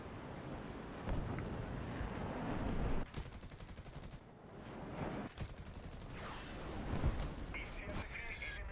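Gunfire strikes a player's plane in War Thunder amid a dense roar of engine and wind, with bursts of rapid rattling impacts and sharp cracks scattered across the clip and a voice speaking over parts of it.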